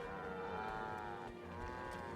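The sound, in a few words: cows mooing in Guild Wars 2 video game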